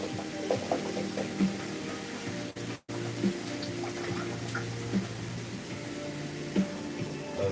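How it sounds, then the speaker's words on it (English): Water pours steadily over vegetables coated with baking soda, rinsing them. The rush is continuous and fairly quiet, with a faint hiss and a brief dip partway through. No one talks. "Then I'm gonna add some water on that."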